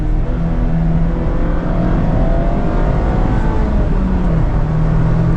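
A 2026 Mazda MX-5 Miata ND3 with updated differential drives hard on the Road America race track, its engine droning steadily and loudly throughout with rising and falling pitch under load, heard from inside the cabin.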